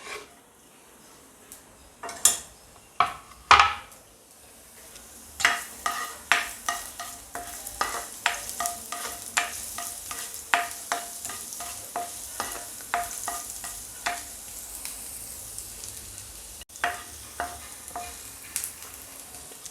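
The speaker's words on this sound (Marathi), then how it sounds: "तेल जसं गरम झालं त्यात सगळ्यात पहिले आपण यामध्ये ॲड करूया लसणला" Garlic and ginger sizzle and crackle in hot oil for a restaurant-style soyabean manchurian, with a steady frying hiss and repeated sharp clinks and scrapes of a spoon stirring against the pan, close and fairly loud.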